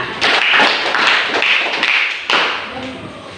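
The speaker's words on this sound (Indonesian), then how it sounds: "Tepuk tangan." Hands clapping in a classroom, a loud rhythmic burst of claps from a group of students, several beats at a steady pace, then a final sharp clap, with voices heard alongside.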